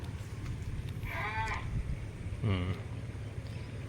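Two bleats from goats, one around a second in and a louder one later, over a steady low rumble of outdoor background noise.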